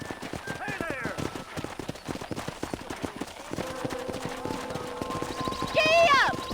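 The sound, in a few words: horse galloping, from a video game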